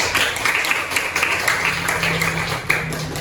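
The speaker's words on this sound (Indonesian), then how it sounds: "Kasih tepuk tangan buat Eka" A fifth-grade class in a coding lesson claps for a student, a dense, continuous patter of many hands heard close, lasting throughout.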